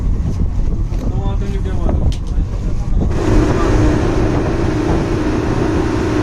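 A speed boat runs at sea off Dubai, its engine a steady low drone under heavy wind buffeting and rushing water, growing louder and rougher about halfway through as the boat picks up speed.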